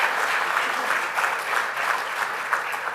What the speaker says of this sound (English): Big round of applause for the three nominees for Best Women's Player of the Year.